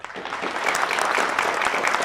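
Studio audience applause closing a Hindi TV news discussion on News18, a brief burst of steady, dense clapping at moderate loudness.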